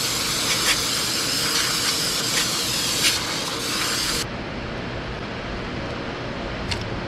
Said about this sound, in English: Let's start by hosing her down.